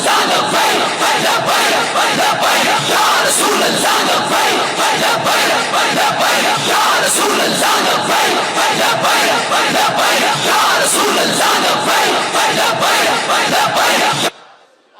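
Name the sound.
crowd chanting religious slogans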